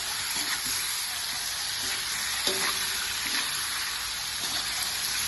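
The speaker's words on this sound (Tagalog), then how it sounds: "prito lang natin to guys" Chicken sizzles and crackles continuously in a hot pan with water added, a close, steady frying hiss with occasional light stirring knocks and no talk.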